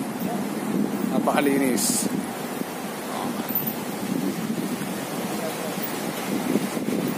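Wind buffets the microphone along a riverside path while a cyclist rides, a steady blustery rumble with a voice speaking briefly over it.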